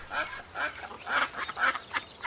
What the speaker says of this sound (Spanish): Es como estos patos.